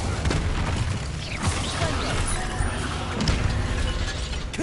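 Fiery spell blasts from Hogwarts Legacy crackle and burst in a dense, continuous barrage of magical impacts, loud and close, with a few sharp booming hits standing out among the sustained roar.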